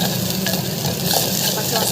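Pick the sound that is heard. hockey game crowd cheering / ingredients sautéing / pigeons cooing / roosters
ingredients sautéing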